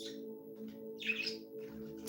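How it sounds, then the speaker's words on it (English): Pet birds loose from their cage give faint, high chirps and tweets indoors, a short cluster of calls standing out over a steady electrical hum. "My birds have been out of their cage"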